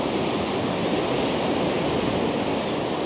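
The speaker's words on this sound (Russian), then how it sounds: "Волны, конечно, до сих пор присутствуют." Continuous broad roar of Black Sea waves at Sochi, loud and unbroken, like surf washing steadily without distinct breaks.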